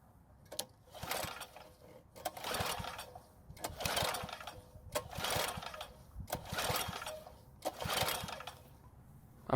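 A Craftsman lawn edger with a fresh air filter and fresh gas is pulled to start and fails to catch, giving a series of faint, rhythmic sputtering bursts, about five or six, evenly spaced and close by.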